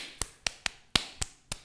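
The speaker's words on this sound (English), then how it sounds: "Elbow claps." Six crisp, sharp claps made with the elbows, spaced unevenly, close and fairly loud with nothing else around them.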